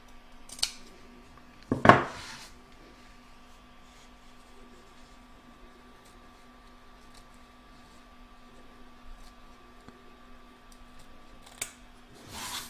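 Scissors trim fabric and cutaway stabilizer on a machine-embroidered patchwork star block, giving a few sharp snips close by, one louder cluster early and another near the end, separated by a long quiet stretch.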